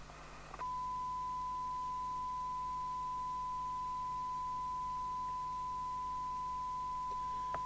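A steady, pure test tone from a signal generator, received on a UK FM CB radio base station, hums on without a break over faint background hiss, starting abruptly after a brief crackle.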